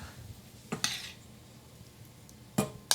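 A bowl is picked up in a kitchen to serve gluten-free cinnamon and brown sugar pasta: a few quiet, sharp clinks of dishware and utensils spaced over a soft, near-silent background.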